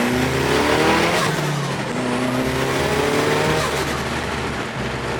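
A car accelerates hard with the throttle floored, its engine roaring loud and close as it climbs through the revs over a steady road-and-tire rush, with no talking.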